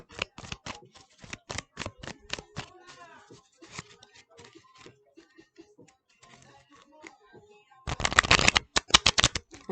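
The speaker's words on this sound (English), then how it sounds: "I'm going to shuffle these cards" Rapid bursts of cards riffling and snapping, close up, in quick rhythmic runs, with softer handling sounds and a brief pause midway, then a loud final flurry.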